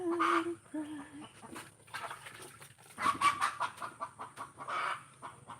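A hen clucks in short, close bursts, with other fowl sounds and faint background voices mixed in, set amid a home where pili nuts are being peeled.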